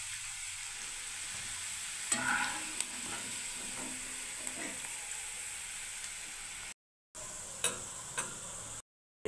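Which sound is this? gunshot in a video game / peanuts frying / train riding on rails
peanuts frying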